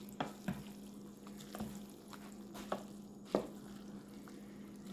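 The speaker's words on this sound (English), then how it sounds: "giving it a stir" Pasta being stirred in a hot pan, soft scraping and tapping strokes at irregular intervals over a low steady hum and faint sizzle, close and quiet with no talking.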